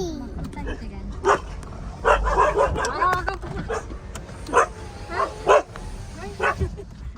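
A dog barks repeatedly and fairly close in short, sharp yaps and a few whimpers at a riverside park near a railway bridge, with a person's voice underneath.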